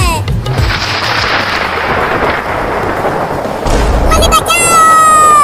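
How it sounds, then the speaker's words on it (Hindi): A heavy rumble of thunder rolls through over steady rain noise, loud and close, ending with a sharp crack. "मम्मी, बादल गरज रहा है और बिजली भी गिर रही है।"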